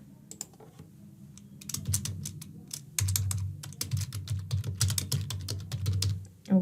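Fingers type test card details on a computer keyboard, starting with sparse key presses that build into quick, close, steady clacking.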